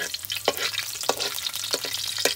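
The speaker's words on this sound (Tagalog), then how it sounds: "Ayan po, magigisa na po kami." Garlic sizzles and fries in a pan while being stirred and sautéed in a countryside kitchen in the Philippines, with a steady crackling hiss punctuated by a few scraping stir strokes and no talking.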